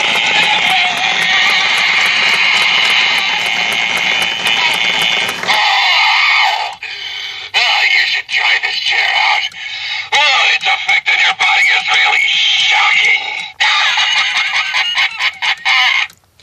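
A Joltin Jack animatronic Halloween prop, switched on, gives off a loud, harsh, crowing-like blare for about five seconds, then a string of choppy bursts and pauses that run to the end.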